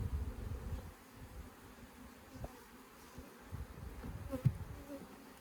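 Quiet, steady buzzing of many honeybees around a hive with bees hatching out, with a few soft knocks and brief louder buzzes close by.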